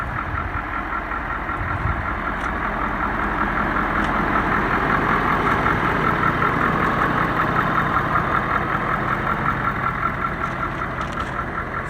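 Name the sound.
wrecked Ford 6.7 Powerstroke diesel truck engine running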